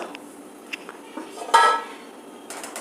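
Metal clatter of kadubu, a rice dumpling from the Malenadu region, being set into a steaming pressure cooker on a stove. Light clinks and scrapes build to one sharper metallic clang, quiet and close, with no talking.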